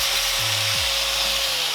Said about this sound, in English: I'm going to use an angle grinder to cut that little piece off